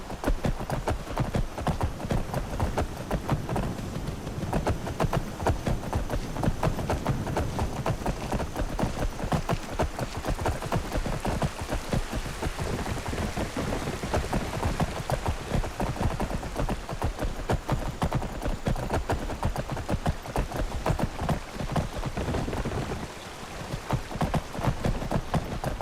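Horse hooves clip-clop at a continuous rapid gallop in the video game Skyrim, dense and steady for the whole stretch, mixed with game ambience and occasional sharp impacts.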